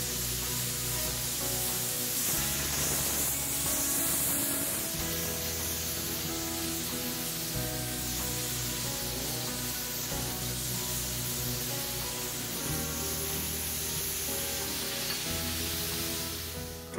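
A cutting torch gouges out a weld bevel on steel track, a steady hissing, sizzling roar that runs continuously up close with slight surges, no talking over it.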